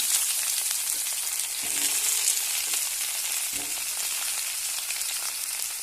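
Eggplant slices frying in hot oil after a batch of puti fish, a steady bright sizzle running throughout with a couple of soft low knocks, no voices.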